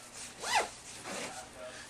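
Zipper on a North Face Cat's Meow sleeping bag with a full-length draft tube, one quick close zip pulled in a single sweep, followed by a softer second rasp.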